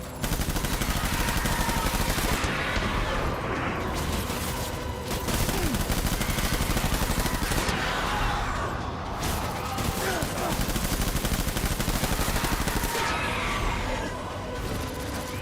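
Heavy sustained gunfire in a battle scene in Death Stranding, continuous bursts of automatic weapons and dense volleys that fill the whole stretch, with shouting voices mixed into the racket.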